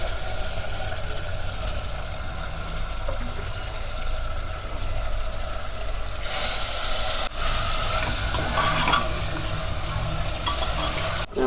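Chicken masala with garlic paste, onion, tomato, chili, mint and plenty of coriander frying in a pan: a loud, steady sizzle runs throughout, with scraping stir sounds and a brief clatter near the end.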